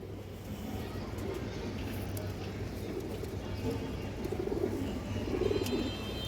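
Pigeons at a loft, including a female pigeon, give soft, low cooing that grows a little more noticeable toward the end over a steady background hum while someone talks.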